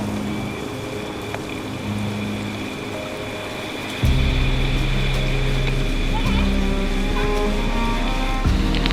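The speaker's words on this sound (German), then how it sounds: "So krass, wie toll der Regen einfach ist." Heavy pouring rain on Ilha Grande, Brazil, a dense constant hiss loud and close, with a deeper rumbling layer swelling in partway through as the downpour intensifies.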